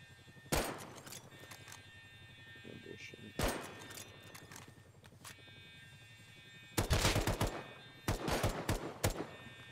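Gunfire in the survival game Rust arrives as separate bursts: two short volleys, then a longer rattling automatic burst near the end. A steady electronic hum runs underneath, and there is no talking.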